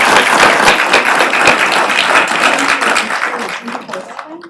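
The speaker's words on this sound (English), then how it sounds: "let's give them another round of applause." An audience at a county school board meeting applauds in a dense, loud wash of clapping that gradually thins and fades toward the end, with some voices mixed in.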